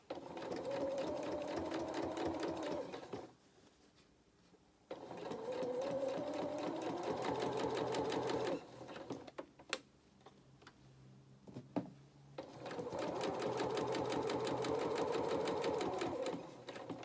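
A sewing machine stitches a faced lining in dressmaking, running in three loud close bursts with quiet gaps between them, marked by small clicks and handling noises.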